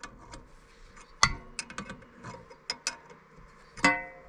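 Belts being tightened on the edger of a Mobile Dimension sawmill: irregular metallic clicks, ratcheting ticks and a few sharper clanks from a wrench or fasteners, close by, with no speech.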